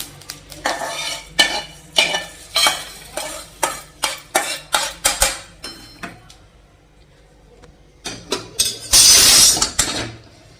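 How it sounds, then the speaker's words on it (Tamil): A metal spoon scrapes and knocks repeatedly against a pan as raw banana slices fry, a quick rhythmic series of close clatters with a soft sizzle underneath, then a brief louder rush of scraping near the end. "அது இந்த வெடிக்கிற மாதிரி வருது பார்த்தீங்களா, பொரியுதுல."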